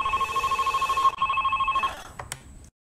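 A telephone rings with a rapid pulsing electronic trill during a call-in television program, loud and close, followed by a click and a short beep as the line is picked up, with no talking.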